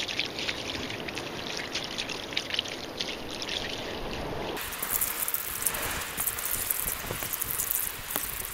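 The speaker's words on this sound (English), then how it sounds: "gonna get a nice rinse on everything. Get all the blood out of here." Running water rinses the blood from a freshly cleaned bluefish, a steady trickling and splashing that continues throughout, close and moderately loud with no talking.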